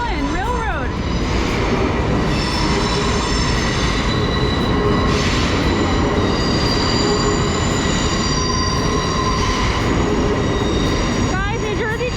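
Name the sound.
Long Island Rail Road train leaving the station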